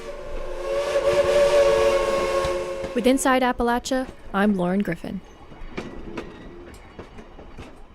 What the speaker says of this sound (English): the trains are still running and drawing people to Cass, West Virginia